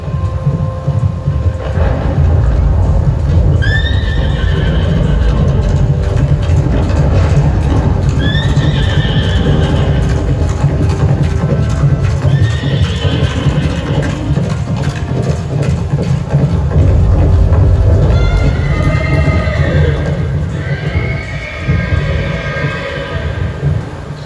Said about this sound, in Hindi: ये कोई साधारण अश्व नहीं है, ये अश्वमेध यज्ञ का घोड़ा है जिसे पांडवों ने छोड़ा है